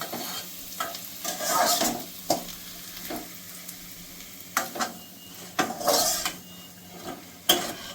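Onion and garlic fry in oil in a pan while a spoon repeatedly scrapes and stirs, giving a steady sizzle broken by rhythmic clattering strokes and a few metallic clinks, close and without speech.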